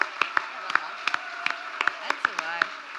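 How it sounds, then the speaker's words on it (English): A small audience claps for an award nominee, scattered hand claps and whoops rising over a steady background hum, with a voice carrying through in places. "Give him a big round of applause."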